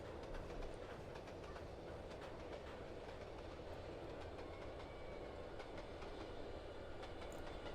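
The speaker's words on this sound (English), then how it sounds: "there's another freight train, and we gotta stop" A freight train in the video game Trainz Simulator 2 rumbles past steadily, with a continuous heavy rolling roar and faint rhythmic clacking of wheels throughout.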